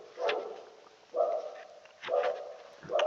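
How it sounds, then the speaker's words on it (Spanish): A dog barking, four separate barks spaced about a second apart, fairly close and moderately loud, alone without talk. "Ya, el perro fue gritando."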